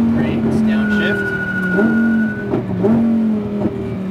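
Lamborghini Huracan race car on a track at Speed Vegas braking and downshifting, the loud engine tone dropping and then blipping up with each gear change, under a voice.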